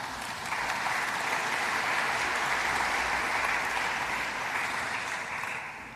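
Conference audience in Vienna applauding a South African science official, a dense wash of clapping that swells in quickly, holds steady, then tapers slightly at the end.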